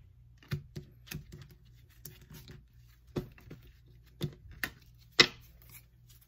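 Tarot cards are shuffled by hand in a quiet room, making soft, irregular taps and slaps with a few sharper snaps spaced over several seconds, close by and faint.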